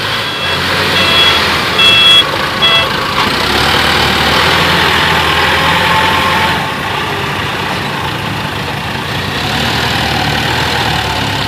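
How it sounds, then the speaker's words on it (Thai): A heavy engine idles steadily nearby while a truck's reversing beeps sound in a short repeated series, at a stone-loading site where an excavator scoops rocks into a dump truck. "ยกใส่แล้วก็เทลงไป คันละสองตัก"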